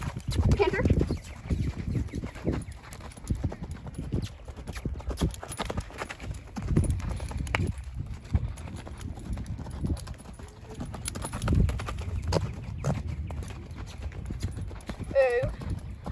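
A horse canters on a lunge line, hooves thudding in a steady rhythmic beat on soft ground, with occasional quiet talk from the handler over the footfalls.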